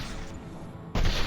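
Gunfire in the game Mass Effect 2: a continuous, dense rattle of shots that swells into a louder, heavier burst near the end, with no talking.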